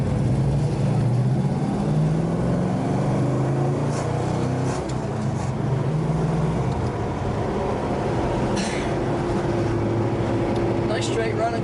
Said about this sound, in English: Nice straight running car